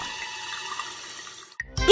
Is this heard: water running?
yes